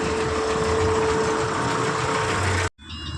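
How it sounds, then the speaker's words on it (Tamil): Truck engine droning loudly and steadily while reversing on a long-haul trip, then cutting off abruptly near the end, leaving a quieter hum. "இப்போ நம்ம வண்டியை வந்து ரிவர்ஸ் அடிக்கணும்."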